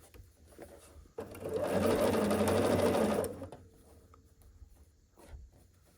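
A sewing machine stitches pieces of a quilt block together in one continuous, even whirring run of about two seconds, close and fairly loud, with faint handling noises before and after.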